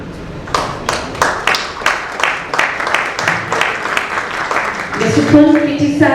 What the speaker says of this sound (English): let's have a round of applause for each of our speakers